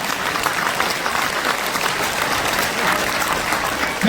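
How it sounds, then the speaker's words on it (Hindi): A crowd at a religious discourse gathering claps in hearty, continuous applause, a dense wash of hands from start to finish with no speech over it. "जोरदार तालियां"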